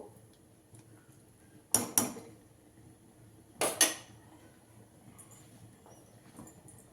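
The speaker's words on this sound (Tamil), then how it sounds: "தேங்காயும் சீரகத்தையும் கலந்துருவோம்" A spoon stirs ground coconut and cumin paste into ridge gourd kootu in a metal pot, making two quick pairs of metallic clanks against a quiet kitchen background.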